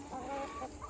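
Black Australorp broody hen clucking close by in a short, loud burst of rising, singing calls right after laying an egg.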